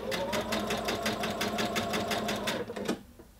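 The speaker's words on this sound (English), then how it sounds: "so I'm just going to sew quite quickly down this first section" A sewing machine runs quickly down a princess seam in a rapid, even stitching rhythm, close and loud, stopping abruptly near the end.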